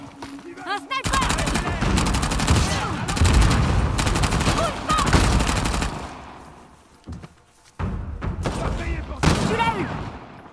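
Heavy gunfire in Uncharted: The Lost Legacy, including a sniper, erupts in dense rapid bursts of automatic shots, loud and close, with a brief lull before firing resumes, while people talk excitedly over the action.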